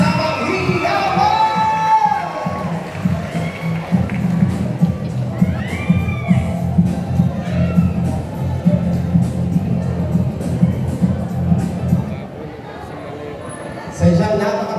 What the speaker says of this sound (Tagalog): Parinigan mo ng isang malabas na palakpakan na may kasamang hiyawan.